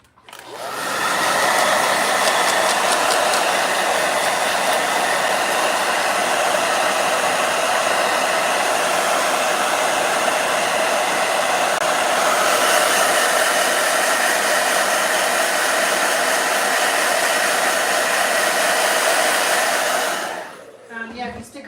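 A blow dryer runs steadily for about twenty seconds, a loud, even airy roar that holds constant, shifts slightly partway through, then cuts off near the end.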